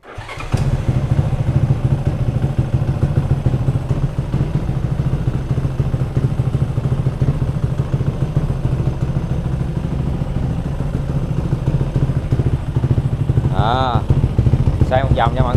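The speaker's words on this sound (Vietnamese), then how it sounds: "bây giờ mình sẽ nổ máy lên để mình nghe thử tiếng của cục máy nhái 110 này nó ra làm sao" Honda Wave motorcycle fitted with a Chinese clone 110 engine starts and settles into a loud, steady idle close by, with a brief rev near the end.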